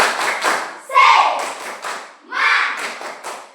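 Students in a Merauke classroom repeating a rhythmic group spirit clap, clustered claps in a patterned sequence with brief gaps and a thud, interleaved with voices chanting in unison.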